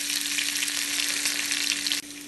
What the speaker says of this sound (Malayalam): ഇതിലേക്ക് 2 പച്ചമുളക് ചെറുതായി അരിഞ്ഞെടുത്ത് ഫ്രൈ ചെയ്യാം